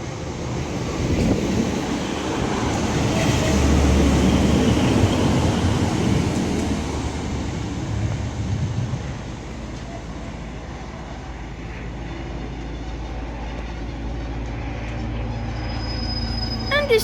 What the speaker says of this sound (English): As this Northern Class 150 now arrives in